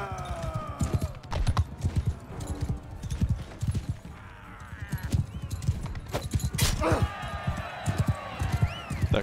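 Horse hooves clip-clop rapidly and steadily in a Mount & Blade II: Bannerlord battle, galloping beats over game ambience, with someone talking over them.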